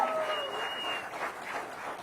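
Steady audience applause at a District of Columbia community event marking a housing milestone, a dense wash of clapping that holds at moderate level for the full stretch, with a faint tonal sound near the start.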